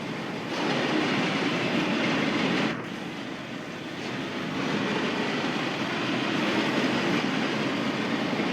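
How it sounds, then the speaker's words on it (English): A train rumbles past at a distance, heard from above on a bridge as a continuous broad roar that swells and briefly dips before building again, fairly faint overall. "Yeah, I see a train there."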